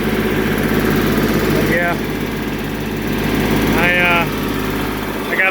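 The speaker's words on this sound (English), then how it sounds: "Woodmaxx WM-8H. It's actually on right now." A Woodmaxx WM-8H wood chipper hooked to a Kubota tractor runs with a loud, steady engine drone throughout, while someone talks over it.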